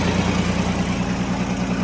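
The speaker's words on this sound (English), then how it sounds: "The old John Deere." An old John Deere tractor engine idles steadily, a continuous low rumbling throb with a rough mechanical buzz, close and loud with no talk.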